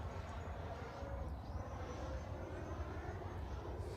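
FMS Avanti 90mm electric ducted-fan RC jet on 6S power flying through and out of a flat spin, a steady whooshing fan roar with slight swells in pitch, heard from the ground at moderate distance.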